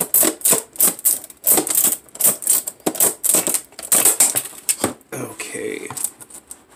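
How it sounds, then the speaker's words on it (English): Packaging around a McFarlane Twisted Tales of Oz figure is cut open in a rapid series of sharp snipping and crunching strokes, close and loud, then a brief rustle of plastic as the cutting stops. "So let's get to the cutting. Let's cut it open."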